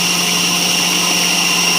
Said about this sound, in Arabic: يبقى كده هشغل الخلاط وانزل سرسوب صغير.